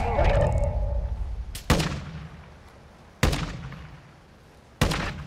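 Three sharp gunshots from a video game rooftop firefight, spaced about one and a half seconds apart, each a loud broadband crack with a decaying tail over steady background noise.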